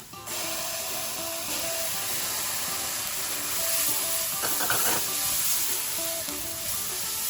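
Masala with ginger-garlic paste sizzling steadily in a dry pan while being stirred, a continuous bright hiss with occasional scraping, close and alone.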